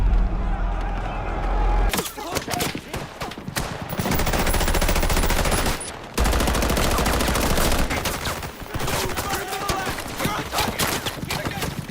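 Loud, dense gunfire rattles in rapid bursts like machine guns in a battle, with brief pauses between volleys and voices partly underneath.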